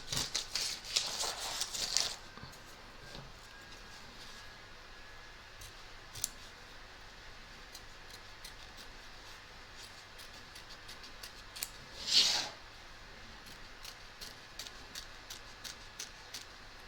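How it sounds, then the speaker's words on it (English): Scissors trim excess fabric from an embroidery hoop for an owl appliqué: a quick cluster of faint, crisp snips, a long quiet stretch with light ticks, then another brief snip, all close and soft. "We're now going to trim up the excess fabric both back and front of our hoop."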